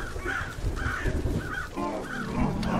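Crows in the video game Our Savior, repeated harsh caws about every half second over dense game noise, no talking.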